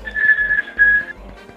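Whistling in the Paperino Operazione Papero video game, a steady high whistled tone held in two phrases over a soft rhythmic low pulse, clear and fairly loud with no talking.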